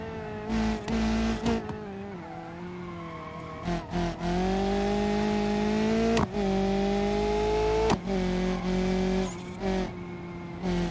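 A rally car in BeamNG.drive roars through a hillside course, its engine revving hard at high gear with steady harmonic whine, brief dips during shifts and lifts, and occasional tire scrubbing as it corners.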